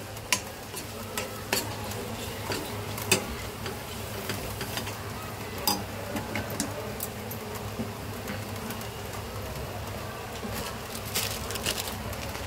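Malvani masala sautéed in hot oil in a pan for a dragon stalk yam (shevla) dish, giving a steady soft sizzle with frequent sharp spatula ticks and scrapes over a low background hum.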